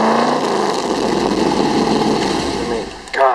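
A 1965 Factory Five Cobra's engine runs loud and steady up close, a continuous throaty rumble that holds for a few seconds before a brief shift near the end.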